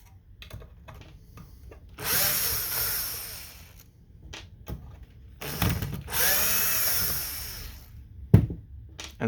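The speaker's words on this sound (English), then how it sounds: "Now we need to take off this little board here, and we're just going to unscrew that same size bit." Power screwdriver backing out screws from a small board inside an Xbox Series X console, two bursts of whirring motor a few seconds each, close up, separated by quiet handling clicks and a sharp knock.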